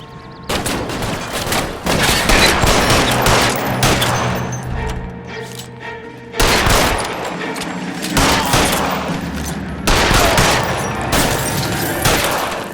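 Rapid bursts of gunfire from the L.A. Noire video game, loud and sustained across several volleys with brief pauses between them, no talk.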